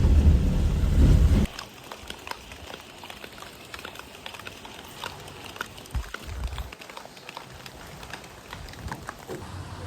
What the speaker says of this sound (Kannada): ಒಂದು ಮಳೆ ಬೆಳಗ್ಗೆ ಬಂದಿರೋದು, ಮಳೆನೇ ಬಿಟ್ಟಿಲ್ಲ